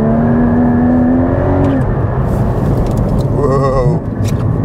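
A Porsche Cayman GT sports car slides on a slippery track while its engine revs up in a rising whine, drops off, then climbs again in a brief burst. Steady road and wind rumble sits underneath, and voices talk over it.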